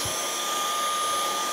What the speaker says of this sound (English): So I use vacuum and other tools like that to literally clean my base plates.